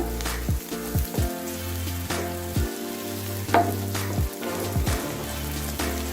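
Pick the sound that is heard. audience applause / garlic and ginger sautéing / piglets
garlic and ginger sautéing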